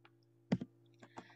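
Quiet computer mouse clicks while working in the Hangul 2018 word processor, a few short, crisp taps spaced apart over a faint low hum in an otherwise silent room.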